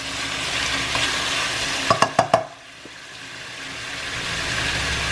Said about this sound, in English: This is going to simmer for probably 10 minutes or longer.